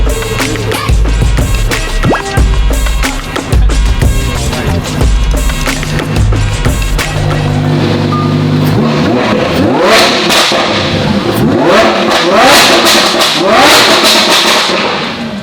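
A supercharged Bugatti Veyron revs hard and accelerates, its loud engine note rising and falling through several sweeping climbs, with dense mechanical roar close by and no talk.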